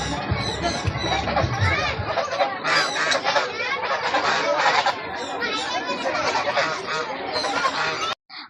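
Ducks at a bird park quack and honk in a dense, loud chorus with steady crowd chatter and voices mixed in throughout, ending abruptly after a brief pause.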